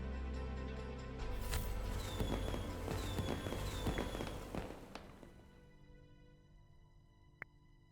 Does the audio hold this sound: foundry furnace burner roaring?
no